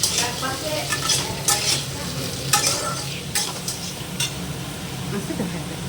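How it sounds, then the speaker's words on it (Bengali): Salted potatoes frying in oil in a pan while being stirred, a steady sizzle broken by repeated scraping strokes of a spatula against the metal, close and clear. "হাফ চামচের মতন আমি আলুর মধ্যে নুন দিয়ে আলুগুলোকে ভেজে নেব।"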